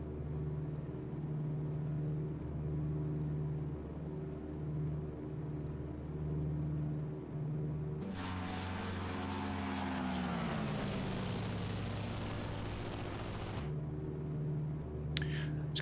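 A classic propeller airplane in Microsoft Flight Simulator 2024 drones steadily, then roars loudly past and recedes, its pitch sliding down as the throbbing engine sound pulls away into the distance.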